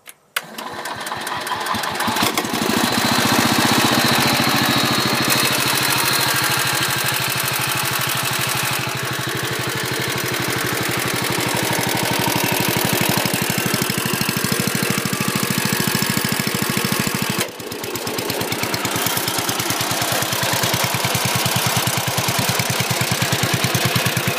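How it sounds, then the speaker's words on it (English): A model 110 lawn mower engine starts with a sharp crack and then runs loudly and steadily with a rapid knocking chug for the rest of the clip, with one brief dip in level partway through and no talking. "Let's see if I can start it up and turn the mower on without it rolling away on me."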